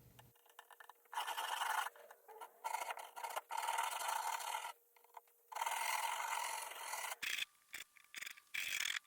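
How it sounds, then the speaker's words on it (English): Edge banding on cheap flat-pack furniture is sanded flush by hand, long rasping strokes in several bursts with short pauses between, close and fairly loud, with no talking. "so I just sand it all down"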